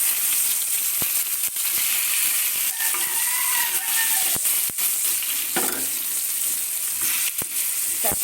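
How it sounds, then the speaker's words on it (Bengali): Eggplant slices fry in hot oil with a loud, continuous crackling sizzle close by, broken by occasional sharp pops and a brief scrape as they are turned. "বেগুনগুলো এখন ভেজে নিব।"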